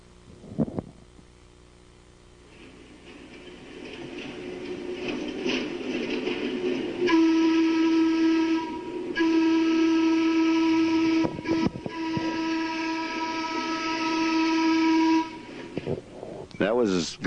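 A 1950 British Columbia Electric Railway train on the Central Park line runs near Nanaimo Station with a sustained rumble of wheels on track, and a long steady tonal whistle sounds in repeated stretches over it. A voice speaks over the train noise.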